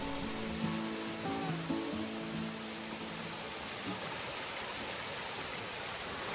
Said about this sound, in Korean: 시원한 폭포 소리가 들리죠?